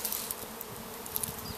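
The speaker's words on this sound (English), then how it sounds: "You can see the bees have made some comb here." Honey bees buzz steadily at an open hive during a Bailey comb exchange, a dense continuous hum close by with no voices.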